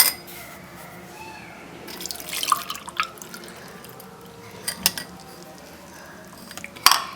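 A herbal detox drink is strained into a glass, with scattered drips and splashes of liquid plus light clinks of a strainer and glassware against a quiet background.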